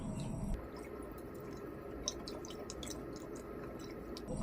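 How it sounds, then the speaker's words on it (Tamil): Sambar rice being stirred after water is added, a steady wet squishing and dripping texture with small liquid drips and clicks, close and fairly quiet, with no talking. "தண்ணி சேர்த்துட்டு நல்லா கலந்து விட்டுருவோம்."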